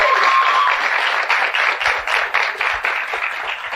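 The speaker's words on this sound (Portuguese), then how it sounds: "Salve de palmas." An audience bursts into applause at a motivational event, a bright steady patter of many hands that stays strong, then thins into looser, more separate claps toward the end.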